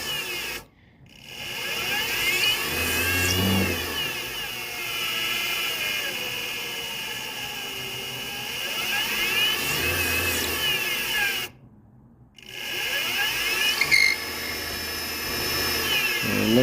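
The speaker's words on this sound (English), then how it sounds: "I was able to get the motor to turn freely." A Vevor 600 mini lathe motor runs with a steady whirring hum, close by. It cuts out twice briefly and then restarts, with faint rubbing and mechanical noise but no talking.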